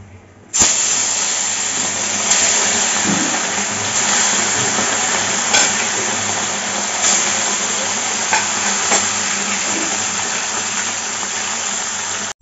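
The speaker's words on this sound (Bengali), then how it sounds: "তেলটা গরম হয়ে গেছে, এখন মাছগুলো দিয়ে দেবো ভাজার জন্য।" Fish frying in hot mustard oil in a wok, a steady loud hiss and sizzle running throughout with occasional pops and crackles, no talking.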